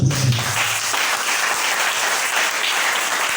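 A church congregation breaks into loud, sustained applause acclaiming the Lord, a dense wash of clapping that fills the room for several seconds.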